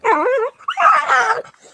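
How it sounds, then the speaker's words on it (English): A small puppy yips and whines in rapid, high-pitched bursts of excitement, two excited runs of squealing with a short pause between. "she sounds like she's yipping in pain, but she's really excited"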